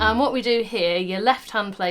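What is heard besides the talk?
No distinct noise like a dog, phone or traffic.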